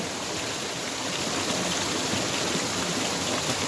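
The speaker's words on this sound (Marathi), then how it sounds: "मातीतनं हे धबधबे चालू आहेत" Small waterfalls and springs streaming out of the soil down a hillside near Malvan in the Konkan at night, a steady, dense rush of running water that fills the clip with no talk.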